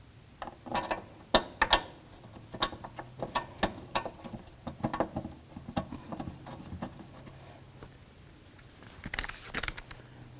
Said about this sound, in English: Grab those bolts, start them both in, and then snug them up.